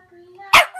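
A puppy whines in a thin, drawn-out tone, then lets out one sharp, loud yip close by before the whimpering resumes.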